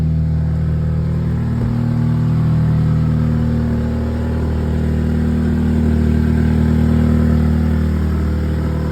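A car engine idling after a cold start with an exhaust leak, a steady close low rumble with a slight swell in revs partway through and no talking.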